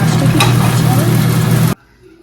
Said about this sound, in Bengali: ইলিশ মাছের তেল ইলিশ মাছ ভাজা